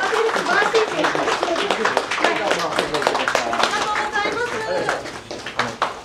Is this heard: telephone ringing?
no